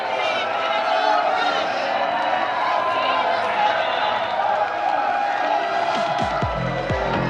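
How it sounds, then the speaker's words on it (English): A very rowdy crowd roars and cheers continuously in a convention center arena after a Major League Table Tennis win, a loud dense wall of noise with excited voices calling out throughout. "the rowdiest crowd in MLTT history is going nuts here at the Convention Center in the Queen City"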